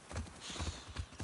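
Horse hooves clip-clop at a steady walking rhythm in the video game The Last of Us Part II, set in Seattle, four or five clear thuds, close and moderately loud with no talking.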